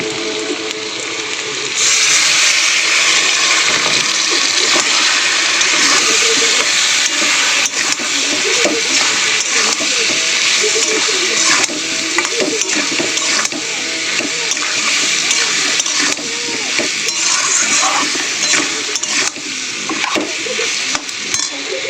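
Running tap water rinses a bowl in a home kitchen before spice paste of salt, chilli powder, turmeric and ginger-garlic is cooked; a steady close splashing hiss continues throughout with small clinks.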